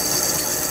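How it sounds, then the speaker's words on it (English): A bigger drill bit boring through metal held in a lathe's four-jaw chuck, giving a steady, loud, close grinding hiss with no pauses. "just put a bigger drill through there now."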